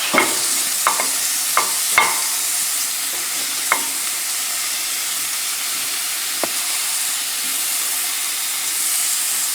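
Sausage frying in a pan, an even hissing sizzle with occasional sharp pops and crackles of spitting fat, moderately loud and without speech.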